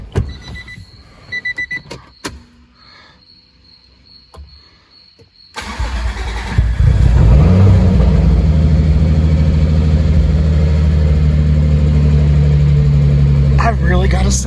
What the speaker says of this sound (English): this is the second start of the car